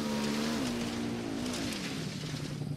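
Motorcycle engine in the Ghost Recon Wildlands video game, a steady loud drone whose pitch rises and dips as the bike shifts and revs, running continuously throughout.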